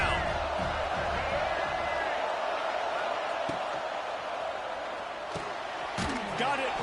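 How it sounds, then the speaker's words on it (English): Football stadium crowd at a college scrimmage roaring steadily behind the defense on third down, a dense sustained wash of cheering and whoops that holds loud throughout with a few sharp claps or bangs near the end. "Decibels rising as the crowd gets behind this defense on third down."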